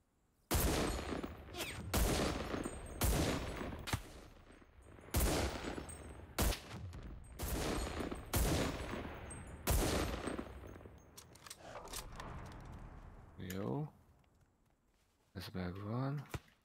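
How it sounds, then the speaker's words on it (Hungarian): Gunfire in a battle royale video game: a rapid series of loud, sharp shots in bursts, some with echoing tails, followed by quieter clattering and brief sounds near the end. "Onnan jött a lövés."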